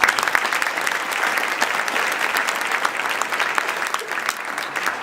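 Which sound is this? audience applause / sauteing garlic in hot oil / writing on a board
audience applause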